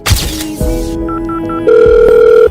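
A telephone rings in a school setting, a steady electronic ringing tone that grows louder and continues alone for a couple of seconds without any talk.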